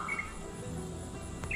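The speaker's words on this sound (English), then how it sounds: "You hear pretty birds? I hear pretty birds." Small birds chirp outdoors in a mountain setting, a few brief high tweets near the start and again near the end over a steady background hum.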